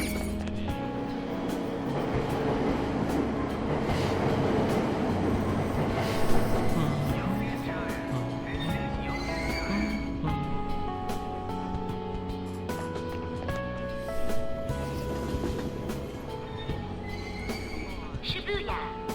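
Train ride in Persona 5, with a steady low rumble of a rail car rolling along continuously, occasional clatter and tonal game sounds layered on top, and a voice talking over parts of it.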